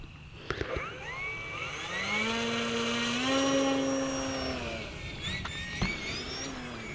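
The electric motor of an E-Flite Eratix 3D flat foamy RC plane, 860 mm span, running on a 3S battery whines steadily. Its pitch rises and falls as the throttle is punched, and a few short clicks and knocks are heard.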